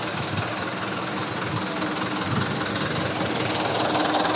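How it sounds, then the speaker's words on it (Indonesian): A car engine idles steadily and close by, a continuous even rumble throughout with no revving. "Enak banget mesinnya."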